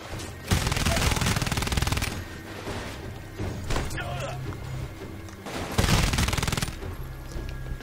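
Gunfire in the Titanfall video game: bursts of rapid automatic fire, loud and close, with a heavy sustained volley at the start, quieter shots in the middle and another loud burst near the end.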